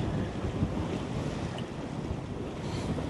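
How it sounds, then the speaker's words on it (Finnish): Steady wind rushes over a sailboat under sail at sea, a constant loud roar mixed with water wash and microphone buffeting, with no voices. "No 45 asteesta tuulee"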